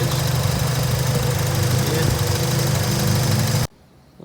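A car engine runs with a drive belt squealing from a crooked tensioner pulley. The steady loud hum carries a thin high whine close by, then cuts off abruptly near the end.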